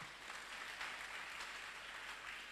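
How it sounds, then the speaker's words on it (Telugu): A church congregation claps together during a pastor's sermon, a steady, dense patter of many hands that stays even and fairly quiet throughout, with no voices over it. "చప్పట్లు కొట్టండి అందరూ."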